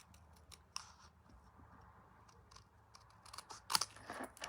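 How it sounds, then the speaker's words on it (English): Scissors snip through paper for a handmade Stampin' Up Christmas card with a little stocking, a few soft cuts early on, then a quick cluster of louder, crisp snips near the end, close up with no talking. "come in with scissors."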